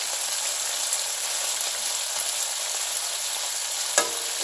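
Beef chunks brown in hot oil for a slow cooker stew, giving a continuous, even crackling sizzle up close, with a single brief knock near the end.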